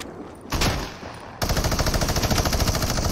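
Rapid automatic gunfire from hip firing in a video game, a short burst followed after a brief pause by a longer, louder sustained volley of tightly spaced shots.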